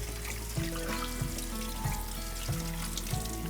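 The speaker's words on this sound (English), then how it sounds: "I just stir this up a little bit to make sure that all of it gets rinsed with the hot water" Hot water runs over corn being stirred and rinsed in a sink, making a steady splashing trickle, with louder sloshes recurring every half second or so, and no talk.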